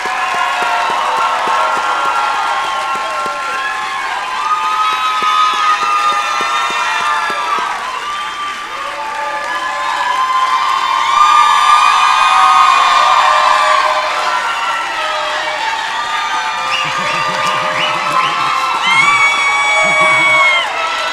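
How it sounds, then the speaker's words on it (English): Loud, sustained cheering, whooping and applause from a large commencement crowd for graduates at a liberal arts ceremony, dense and continuous throughout with shouts rising above the roar. "And one final round of applause for our graduates."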